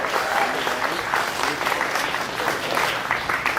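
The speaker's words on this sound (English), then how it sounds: "so let's give them a huge round of applause." A crowd at the Schulz Brau brewery gives performers a big round of applause after their final performance; continuous, dense clapping holds steady and fairly close, with no voices over it.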